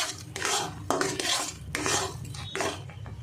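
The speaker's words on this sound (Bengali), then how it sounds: "মিডিয়ামে দিয়ে এটা নাড়তে থাকবো। অনবরত নাড়তে হবে, না হলে নিচে লেগে যেতে পারে" A spoon scrapes and stirs a thick amla mixture in a pan over medium heat, giving repeated rasping strokes in a steady back-and-forth rhythm, close and fairly loud, with a soft sizzle beneath.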